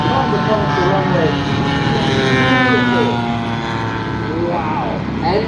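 An RC aerobatic airplane passes over the runway at an air show, its steady engine drone loud and sustained with slight pitch sweeps, while a commentator talks over it.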